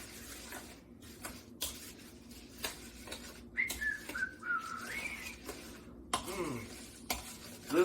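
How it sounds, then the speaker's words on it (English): Cranberry apple pie filling being stirred in a bowl aboard a canal boat: scraping and clinking strokes at a loose rhythm, close by, with a faint whistle-like squeak running over part of it. "Let's get it mixed together."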